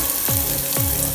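Oil sizzling and crackling steadily as finely chopped onions fry in a pan, with a couple of brief stirring scrapes; no voices.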